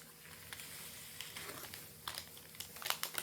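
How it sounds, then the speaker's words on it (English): Soft, scattered rustling and crinkling of a beanbag chair as cats play on it in the background, irregular bursts growing slightly busier toward the end, no talking. "Sorry if you hear, my cats are playing with the beanbag chair."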